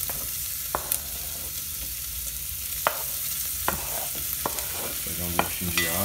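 Sausage fries in a pan with garlic and onion, giving a steady close sizzle, with occasional scrapes and clicks as it is stirred and no talking.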